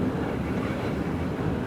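A San Francisco tram rolls along the line with a steady, close rumbling roar of wheels and motor, with no voices.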